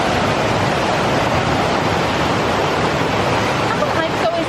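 Lower Reid Falls, a waterfall near Skagway, roars as a steady broadband rush of falling water, loud and continuous throughout with no gaps.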